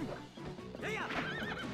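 A horse in the video game Zelda: Twilight Princess whinnies with a rising, wavering cry, loud and close over a bed of game ambience and faint hoof clatter.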